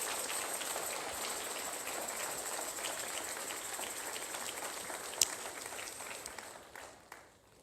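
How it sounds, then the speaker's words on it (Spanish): A church congregation applauds a marriage message, a steady dense wash of clapping held at an even level for several seconds, then fading out near the end, with no clear speech. "Suelte fuerte ese aplauso"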